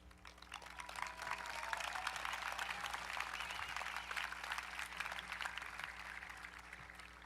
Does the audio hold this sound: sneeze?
no